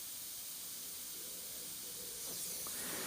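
Airbrush running at 10 psi, giving a faint, steady, even hiss of air that holds unbroken throughout and swells slightly near the end, with no talking.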